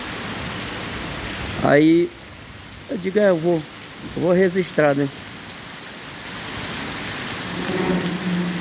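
Heavy rainstorm in Guajará-Mirim, Rondônia, with a steady broadband hiss of downpour running throughout while someone talks in short bursts over it.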